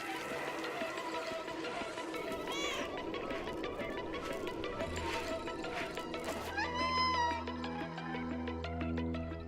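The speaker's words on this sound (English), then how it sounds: "It's this cat game." In the video game Stray, a cat meows a few times over a dense musical score, mixed with other game sounds and a brief voice.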